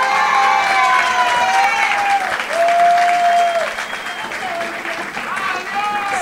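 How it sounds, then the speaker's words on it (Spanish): Steady applause from a crowd with scattered cheers and shouting voices rising above it, continuous and fairly loud throughout. "Viene Valeria, la recibimos con un fuerte aplauso"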